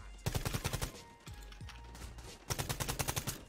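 Gunfire in the online 2v2 shooter Quantum League, a sniper shot taken from the middle, arriving as loud rapid bursts of sharp cracks in two clusters with a quieter gap between.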